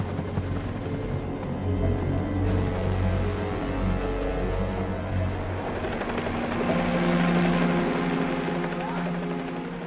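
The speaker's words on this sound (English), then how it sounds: "Miraculously, Chris is spotted by a helicopter" A helicopter's steady rotor drone and engine whine fill the whole stretch, continuous and moderately loud, swelling slightly toward the end.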